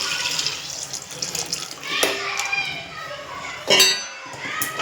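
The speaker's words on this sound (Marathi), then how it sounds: "बॉईल पाणी टाकायचं याच्यात" Boiling hot water, about four glasses, is poured into a chicken biryani pot with a continuous splashing gush that swells and ebbs, while voices murmur in the background.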